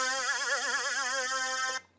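A bright, buzzy Eurobeat-style brass synth patch from NI Massive in mono mode sustains a single rich tone with a wavering vibrato for nearly two seconds, then cuts off abruptly, heard alone.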